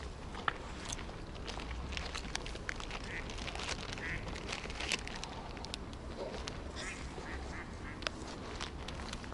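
A duck quacks sporadically as it flees through wet grass on an outdoor mushroom-hunting walk, faint and distant against a steady outdoor background with light rustling.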